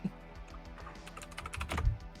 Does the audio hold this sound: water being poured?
no